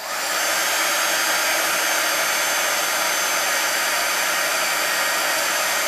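A heat tool blows hot air to melt embossing powder for scrapbooking, a loud, constant hair-dryer-like whoosh and fan hiss running unbroken from start to finish, nothing else over it.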